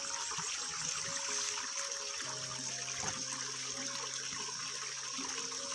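Strong, steady stream of flowing water runs continuously with a bright rushing hiss, accompanied by faint tonal hums beneath it.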